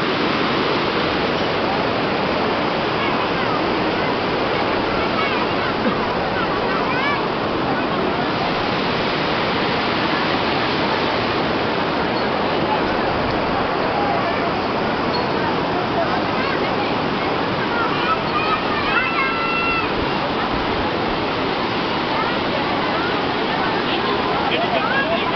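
Water rushing at Chamunda Devi temple, a steady broadband roar of flowing water like a cascade, continuous and loud throughout with a voice speaking faintly under it.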